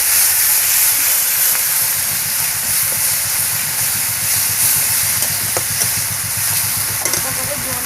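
Water poured into a hot pan of singi fish curry, a loud, close, continuous hiss and steam with a fast underlying bubbling pulse throughout.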